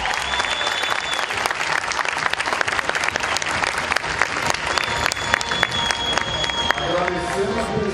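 Sustained, dense applause fills a Nissan industrial launch event, a large audience clapping steadily and loudly throughout with a faint murmur of voices beneath.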